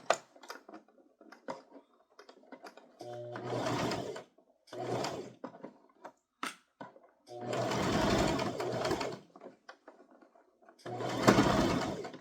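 A sewing machine back stitches along a seam of a toddler crossbody purse, running in several short, loud bursts separated by brief pauses and small handling ticks.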